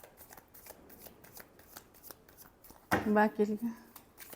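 Tarot cards riffle in quick, close shuffling bursts, and someone speaks Hindi over the final shuffle.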